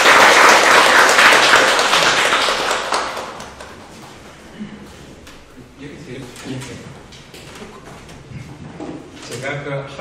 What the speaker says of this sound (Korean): 네, 큰 박수로 김진영 교수님께